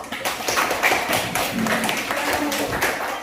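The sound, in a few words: applause for group 3 in a classroom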